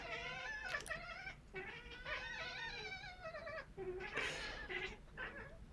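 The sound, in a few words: cats chittering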